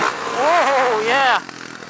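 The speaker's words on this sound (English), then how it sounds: "the bike is seriously low on power right now." An electric racing motorcycle in the Simraceway game, a BAC2000 LiteSpeed Battery Light Bee, lets out a loud rising and falling motor whine that swoops twice, then cuts off abruptly.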